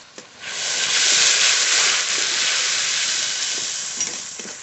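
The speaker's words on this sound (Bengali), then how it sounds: "মশলা তো খুব ভালো করে কষিয়ে নিয়েছি" Spices for a chicken curry sizzle and hiss steadily in a hot pan while being stir-fried, with faint scrapes of stirring, loud and close throughout.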